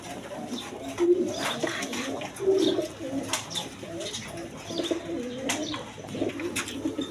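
A pair of Barhum pigeons coo close by in repeated low rolling calls, with a few brighter chirps and some background movement between them.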